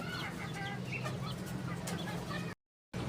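Rooster kept as a named pet on a farm in Faisalabad district, clucking and chattering steadily at close range under a constant low hum, then briefly cut to silence before resuming.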